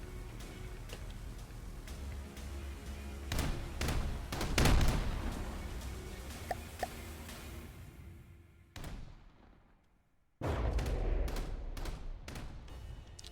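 Ship guns fire in the naval game From the Depths, with a dense run of sharp cracks and booms over rumbling background battle noise, a brief lull, then another burst of rapid shots.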